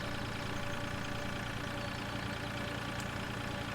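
A tractor pulling a seeder in Farming Simulator 2013 drones as a steady, even engine hum with a low rumble, constant and unbroken from start to finish, with no voices.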